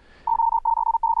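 Steady sine-wave Morse code tones sent by FLdigi software, three clean beeps of similar pitch in a row, loud and alone after a brief quiet lead-in.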